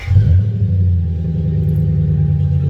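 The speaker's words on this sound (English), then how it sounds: "And then you just start the car." A Lexus LS400 with performance brakes starts cold: a short crank bursts into a strong low engine rumble that settles into a steady, deep idle close by, with no talking.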